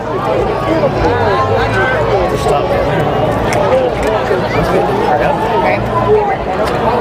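A large crowd lines the street at a Budweiser Clydesdales parade in Springfield, Kentucky, a steady babble of many voices with faint clip-clop, while a nearby voice talks over it.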